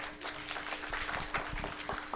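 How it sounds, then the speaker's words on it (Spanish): Audience applause for a speaker being introduced at a live-streamed economics talk, steady dense clapping across the short stretch at moderate distance, with no voices over it. "Un aplauso para ella."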